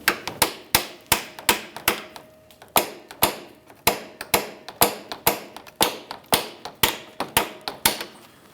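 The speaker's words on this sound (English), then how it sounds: "we'll give those pliers a loving bonk with a hammer just to try to pry this out of here" A hammer repeatedly bangs on locking pliers clamped to a rusted transmission cooler line of a 2002-2009 Chevrolet Trailblazer 4.2, with about twenty loud, sharp metallic strikes in a steady rhythm and short pauses between some groups.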